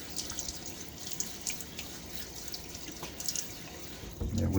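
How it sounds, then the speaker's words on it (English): Water is trickled and dripped onto a shaving brush and soap before the first shaving pass, faint irregular splashes and drips heard close, with a louder handling noise at the end. "There we go with the adding water right before the first pass."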